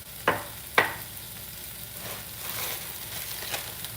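A stir fry sautés in a pan with a soft, continuous sizzle, broken near the start by two sharp clinks of a utensil against the pan.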